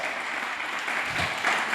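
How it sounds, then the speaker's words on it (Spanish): A small audience claps steadily for a guest at a Costa Rican gathering, a brief, dense burst of applause with a faint cheer. "un aplauso para Martín"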